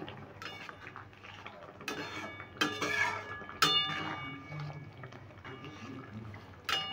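A spatula stirs chili paneer in a pan, giving scattered scrapes and light metallic clicks at an uneven pace, with quiet background sound between the louder strokes.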